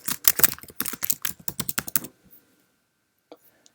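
Quick keystrokes on a Mac keyboard type out a folder name, a rapid run of close, crisp clicks for about two seconds, then silence with a couple of isolated taps.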